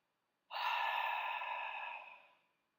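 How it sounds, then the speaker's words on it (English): A single long open-mouthed exhale with a breathy ha quality, starting abruptly, holding steady for over a second, then fading out gently; close, soft and alone in silence. "And as you exhale, make a sound"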